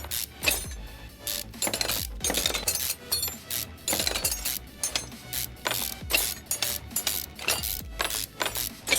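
Bolts being unscrewed with a ratchet in Car Mechanic Simulator 2021, rapid clicking ratchet bursts repeating in quick succession with metallic clinks between them, loud and close.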